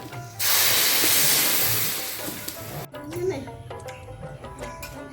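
Water hitting a hot pan of fried spices, salt, turmeric, garlic paste and green chili paste, setting off a loud sudden hiss that fades over about two seconds, then low bubbling under a voice speaking.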